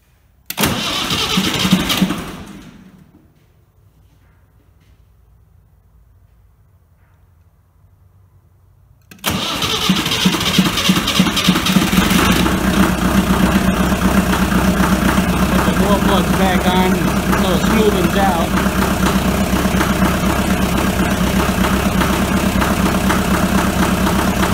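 Diesel engine of a BMC Mini with new glow plugs cranks briefly, falls quiet, then fires and settles into a loud, steady idle close by that continues to the end, no talking.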